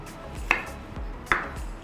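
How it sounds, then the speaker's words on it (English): A knife slicing onions on a cutting board, two sharp, separate knocks of the blade against the board about a second apart, near and otherwise quiet. "Onions को हम slice करेंगे"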